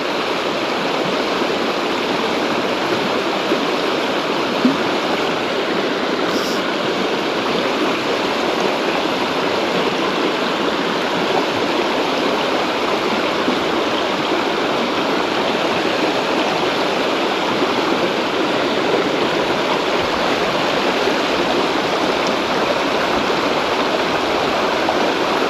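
Fast-flowing river water on a trout and salmon fishing stretch, a loud, steady broadband rush with no pauses, heard alone.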